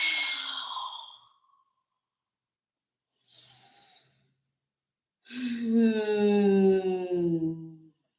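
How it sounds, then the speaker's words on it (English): Deep breaths during a yoga forward fold come as a close, breathy exhale, then a softer breath after a pause, then a longer voiced sigh with a tonal hum. "Then fold towards your feet. Big exhales."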